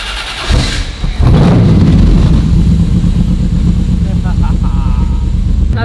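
A car engine is jump-started with a battery booster, cranking briefly before catching and settling into a loud, steady idle close by, with the broad rumble continuing to the end.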